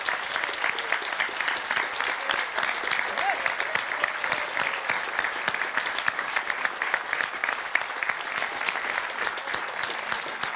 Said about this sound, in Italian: Donc pour Anita, applaudissements.